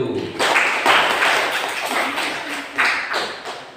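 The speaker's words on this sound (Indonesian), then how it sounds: "Tepuk tangan buat kelompok 1." A classroom of students applauds for the first group, a loud burst of clapping that swells, fades, then rises again briefly near the end, with some voices mixed in.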